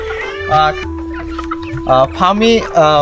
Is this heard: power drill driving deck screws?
no